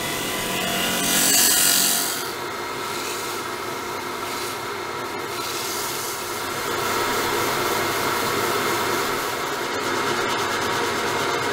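A woodturning lathe tool cuts a turned wooden box, producing a steady close rasping, whirring scrape that swells briefly near the start and then runs continuously under the spinning lathe, without speech.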